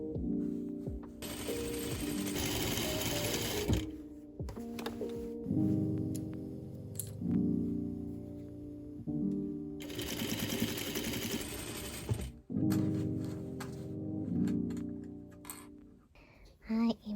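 A sewing machine runs in several long bursts, whirring and clattering as it stitches the edges of a patchwork noren curtain, with short pauses and handling noises between runs.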